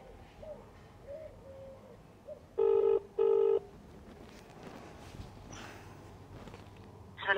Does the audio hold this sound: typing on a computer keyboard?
no